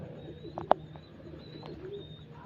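Soft pigeon coos sound nearby over a quiet background at a pigeon sale, with one sharp click partway through and faint high whistling tones.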